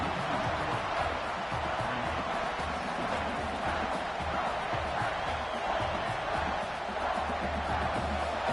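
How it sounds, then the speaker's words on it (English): Broad, steady roar of a stadium crowd at a college football game in a video game, loud and continuous with a constant wash of noise and faint cheers rising within it. "Listen to the crowd energy here in the early going. This is a tough environment for visitors."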